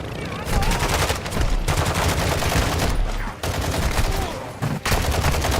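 Gunfire in the shooter game DMZ, dense rapid automatic bursts that fill nearly the whole stretch, loud and close, with brief pauses between volleys.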